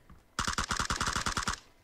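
Close, loud automatic gunfire from the video game PUBG: a rapid burst of about a dozen sharp shots fired in quick succession, lasting just over a second before cutting off.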